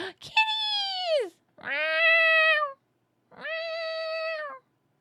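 Cats meow in the horror game Death Mark, three drawn-out, clear meows that fall in pitch at the end, separated by short pauses.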